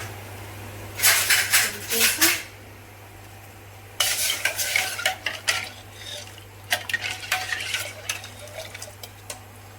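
A spoon stirs and scrapes against a pan of food with garam masala added, in three bursts of clattering, with a soft sizzle and quiet pauses between.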